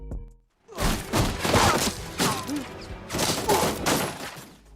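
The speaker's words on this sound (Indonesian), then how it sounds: "Dimulai dengan ledakan bom yang sudah disiapkan oleh Painter, lalu dilanjutkan dengan baku tembak" Film gunfight that opens with a planted bomb blast and moves into an exchange of gunfire, heard as loud bursts of rapid shots and heavy impacts in several dense volleys with brief gaps between them.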